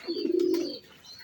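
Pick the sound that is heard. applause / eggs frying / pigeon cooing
pigeon cooing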